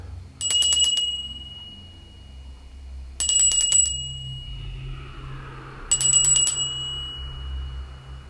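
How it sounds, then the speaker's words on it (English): A bright bell rings three separate times at an even spacing, each strike sharp and clear with a brief ringing decay, in a quiet room during a Victorian-style ghost-hunting ritual at a haunted farm. "do a Victorian era ringing of the bell to invite the spirits in"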